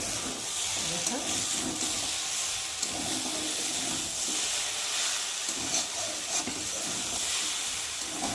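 Vegetables and lentils sautéing in a pan give off a steady, close hiss and sizzle that carries on without a break.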